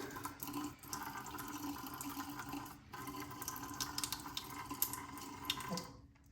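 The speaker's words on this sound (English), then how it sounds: "A little more water." Tap water running into a sink while shaving with a shaving bowl at hand, a close steady stream with small splashes that briefly dips midway and cuts off at the end.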